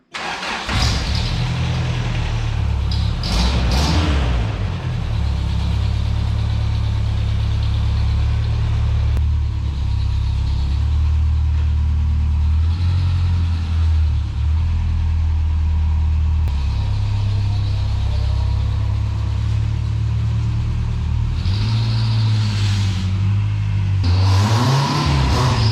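A rare 1967 Toyota Stout pickup's engine runs steadily at idle with several loud revving bursts near the start and end, close and continuous throughout.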